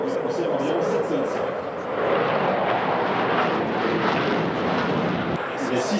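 A Rafale twin-engine jet fighter with two Safran M88 engines roars steadily through a flying display at the Paris Air Show, loud broadband engine noise sustained throughout, with a commentator talking over it.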